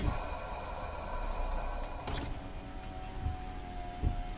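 Steady rain on an afternoon, a continuous hiss with a few soft thuds, heard under a low hum from a trucking game.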